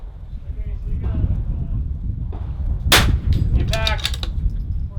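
Rifle fire at an NRL22 precision rimfire match on an outdoor range, with a sharp crack around the middle followed by a bright metallic ring from a struck steel target, heard over wind and constant nearby chatter.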